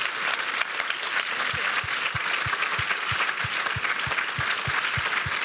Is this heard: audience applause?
yes